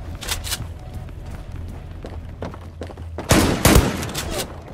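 Gunfire in the online shooter game Zula: bursts of rapid automatic shots, with a louder, denser volley near the end, over a continuous game background.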